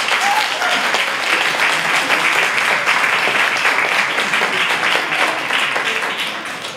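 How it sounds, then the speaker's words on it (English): Hearty audience applause for students at a college dramatic enactment, loud continuous clapping from a full hall that tapers slightly at the end. "I would really like to give a really hearty round of applause for the students who are doing this"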